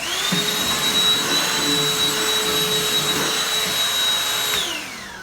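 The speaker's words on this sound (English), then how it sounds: "If you don't have a handheld vac, that's fine." A handheld vacuum whines loudly and steadily while cleaning up sanding grit and plastic bits from face shields, its high pitch holding even before spinning down at the end.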